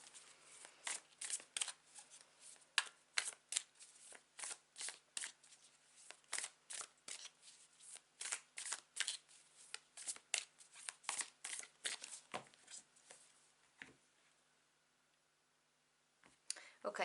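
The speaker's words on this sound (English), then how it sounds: "whilst I shuffle my cards" A deck of tarot cards being shuffled by hand, with crisp riffling bursts in a quick uneven rhythm close up for most of the stretch, then a short pause before shuffling resumes.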